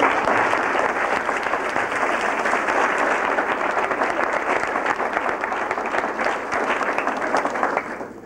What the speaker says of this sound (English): I just think that we need to give them a round of applause for that.